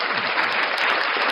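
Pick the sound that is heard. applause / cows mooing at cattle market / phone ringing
applause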